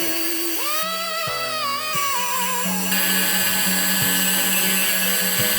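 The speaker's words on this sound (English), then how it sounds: "What you want to do is switch it over to a metal drill bit." A power drill with a metal bit whines loudly, revving up and shifting pitch several times, with grinding bursts as the bit removes glue from a sneaker's rubber toe cap, alone and close.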